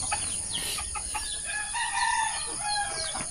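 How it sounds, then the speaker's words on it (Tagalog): A farmyard rooster crows amid repeated hen clucking near a rural garden with papaya and lemongrass, bird calls layered over steady outdoor background noise. "Yan, manok ni Father."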